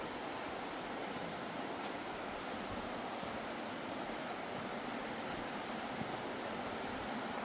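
The Jupâneasa river flows through a narrow gorge, a steady even rush of water heard as a constant hiss, moderately faint and unbroken.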